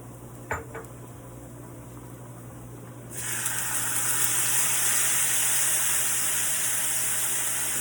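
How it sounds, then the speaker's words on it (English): Cold water poured into a metal pot of seasoned rice: a faint clink early, then a sudden steady rushing gush that starts midway and continues loud and unbroken to the end. "go ahead and hit it with some good water."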